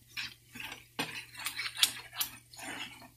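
Ground coconut being mixed into fish curry in a pan without oil, with a spoon scraping and clinking against the pan in quick irregular strokes, close and clear with no talk.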